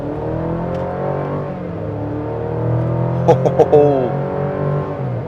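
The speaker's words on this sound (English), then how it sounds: "Once we're situated, we'll lean into it on the gas." A Chevy Colorado ZR2 pickup accelerates on a highway, its engine a steady, rising drone heard from inside the cab, with a few brief higher tones near the end.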